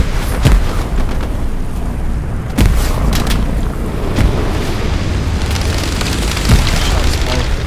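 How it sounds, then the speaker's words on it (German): Grenade explosions in the WWII shooter Hell Let Loose on the El Alamein desert map, several dull booms at irregular intervals over a constant roar of wind and vehicle rumble, loud and close. "Ich werf mal Granaten rüber."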